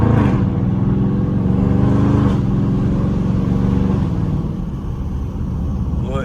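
A Dodge Charger Scat Pack rumbles and revs while driving through a residential neighborhood, its loud, close engine drone rising and easing in broad swells across the whole stretch.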